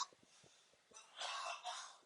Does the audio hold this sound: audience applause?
no